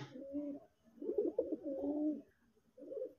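Close, soft cooing from a pair of red-colored pigeons, a male and female, in repeated low rolling phrases with brief pauses between them.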